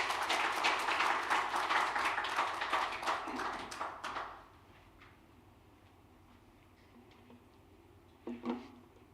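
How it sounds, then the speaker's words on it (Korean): Applause from a church congregation welcoming guest speakers at a Sunday service, dense clapping for about four seconds that then stops abruptly, leaving quiet room tone and a brief clatter near the end. "우리 박수로 환영하겠습니다."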